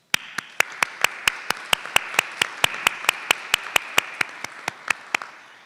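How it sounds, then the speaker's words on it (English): Steady, evenly spaced claps ring out at a college nursing recognition ceremony, a crisp regular beat for about five seconds before stopping, with no talking. "I'd like to give our faculty and staff a round of applause"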